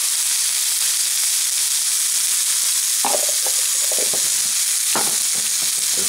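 Leftover stir fry of homegrown Chinese kale and pork belly warming in a pan, a steady loud sizzle throughout with stirring scrapes and clatters of the spatula breaking in midway.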